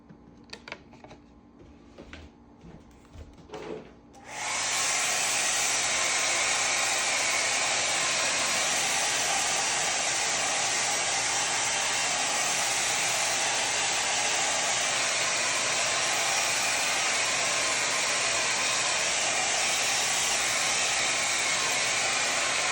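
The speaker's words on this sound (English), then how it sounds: "And I'm going to dry this with the hair dryer," A hair dryer switches on after a few seconds of quiet handling noises and then blows steadily and loudly, a constant close whooshing whine.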